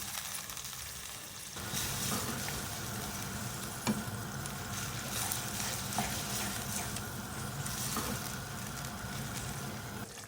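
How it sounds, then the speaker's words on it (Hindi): Minced meat (qeema) sizzles steadily in a hot pan while being stirred, with scraping and clatter of the spoon over a dense, continuous frying hiss that starts abruptly and stays loud and close. "कीमे की मैं भुनाई करूंगी इतना कि इसका कलर चेंज हो जाए"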